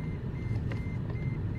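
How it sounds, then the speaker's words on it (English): Vehicle reversing beeps, a faint steady high tone beside a loud low engine rumble that dominates throughout, heard up close for a short stretch. "just that beeping drives you crazy"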